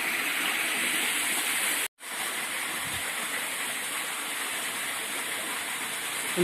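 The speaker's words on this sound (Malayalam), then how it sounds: "ഒഴുക്കിലൂടെ തന്നെ വെള്ളം എത്തിച്ചേരുന്നുണ്ട്." Water flowing steadily by gravity along a canal beside a canal bridge, heard as a constant broad rushing wash, close and even, with one very brief dropout early on.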